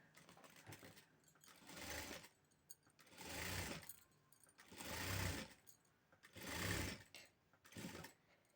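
A sewing machine stitches gold lace work onto a blouse in four or five distinct bursts, each a few seconds long with short pauses between, fairly quiet and close.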